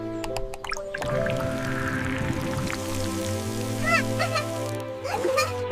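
Ice thaws into water in an animated farm snowstorm scene: soft squishy drips and plinks sound over sustained background music tones, with a brief wet splash near the start.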